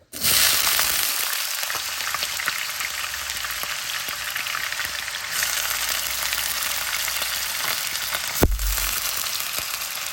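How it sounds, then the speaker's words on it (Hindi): Thin-sliced potatoes fry in oil in a wok, giving a loud, steady sizzle that runs for the whole stretch, with a brief clatter near the end. "अब हम ये आलू को फ्राई कर लेते हैं"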